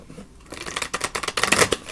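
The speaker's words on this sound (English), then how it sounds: "I was having trouble shuffling the entire deck" A deck of tarot cards is riffled and shuffled close up, rapid papery flutters and snapping clicks building into a dense burst of card noise.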